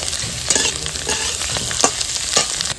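Potatoes frying in a pan with black cumin and vegetable stalks, giving a loud, constant sizzle and hiss broken by a few sharp scraping stirs, with no talking.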